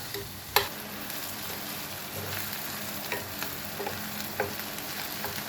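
Finely chopped onions sizzle steadily in a pan as they fry toward brown for stuffed bitter gourd, with occasional light scrapes and taps of a spoon stirring them, alone and fairly quiet.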